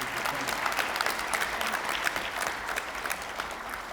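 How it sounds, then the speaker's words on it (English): Audience applause at a judge's investiture, a room full of people clapping in a steady, sustained patter with scattered louder claps, no talk over it. "can we applaud her once again today"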